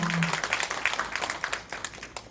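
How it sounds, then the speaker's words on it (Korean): Audience at a book launch and jobs forum in Korea clapping briefly, scattered distinct claps that thin out and fade after a short burst. "여러분 박수 부탁드립니다"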